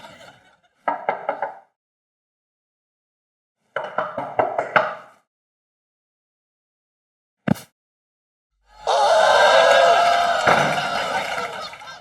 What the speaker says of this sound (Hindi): अरे कमरे का दरवाजा खटखटाएंगे तब पता लगेगा